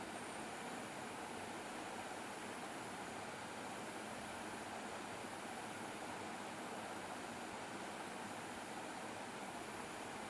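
Vegetables frying with a little salt and turmeric while being stirred, a steady quiet broadband sizzle with no clear breaks and no talk.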